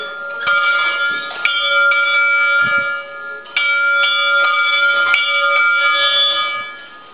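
The bell of the Santa Cruz hermitage chapel on Aitzorrotz is struck repeatedly by hand, loud and near, each clang ringing on with bright overtones, in irregular strokes spaced a second or two apart.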